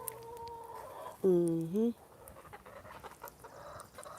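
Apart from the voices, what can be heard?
chickens clucking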